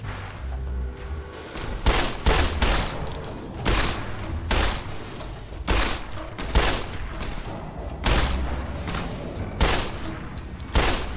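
Rapid bursts of 10mm pistol gunfire in Fallout New Vegas, out in the Mojave Wasteland: sharp, loud cracks fired in quick irregular clusters, close and dominant with no talk over them.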